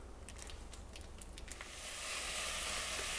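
Ground beef for hot dog chili starts to fry in a pan. A soft, quiet sizzle rises and grows steadier, with a few light clicks from utensils at the start.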